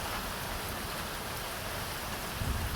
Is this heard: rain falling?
yes